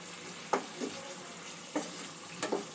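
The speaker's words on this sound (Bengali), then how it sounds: "ডিমগুলো মশলার সঙ্গে একটু 2-1 মিনিট একটু নাড়াচাড়া করে নেব।" Eggs frying and being stirred in an oily spice masala in a pan for an egg gravy, with a steady soft sizzle broken by a few distinct scraping stirs, close and fairly quiet.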